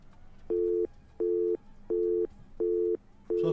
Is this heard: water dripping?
no